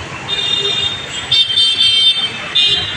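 Busy road traffic near Jubilee metro station, a dense roadside wash of engines with repeated car horn toots rising above the steady rumble.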